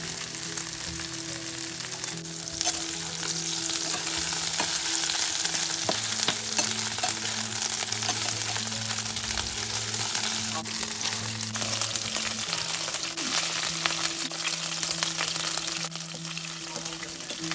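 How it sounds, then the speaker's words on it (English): Pork belly slices fry in a pan to golden brown, a steady close sizzle and crackle of hot oil running throughout with occasional scrape and stir noises, fairly quiet and continuous. "Fry both sides until they're all golden brown."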